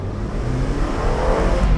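A Mini Cooper convertible, a 16 model, does a fly-by, its engine a steady broadband rumble that builds slightly toward the end with no speech over it.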